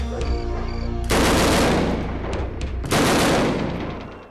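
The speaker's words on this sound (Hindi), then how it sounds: "फायरिंग की आवाज सुनते ही" Loud bursts of automatic gunfire ring out in a staged firefight reenactment, two long rattling volleys a couple of seconds apart, close and harsh, each trailing off into echo.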